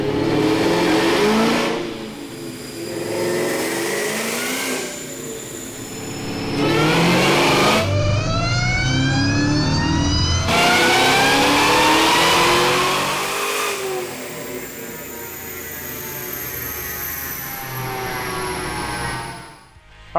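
A Whipple-supercharged 2003 Ford Mustang Cobra revs hard on a chassis dyno, its engine climbing through gears in long loud pulls with rising whine, then holding a screaming high rpm before cutting off.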